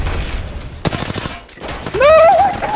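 Short volleys of gunfire from Apex Legends come in separate bursts, close and loud, followed by a rising whistling game effect.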